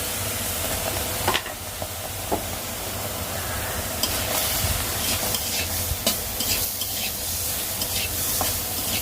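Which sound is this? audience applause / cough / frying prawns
frying prawns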